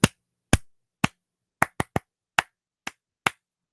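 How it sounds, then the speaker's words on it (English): Hand claps beating out a rhythm to demonstrate tempo and beat: nine sharp, close, dry claps in an uneven pattern, with short pauses between some and quicker pairs between others, heard alone with no other sound. "what if I change the pitch of my clap?"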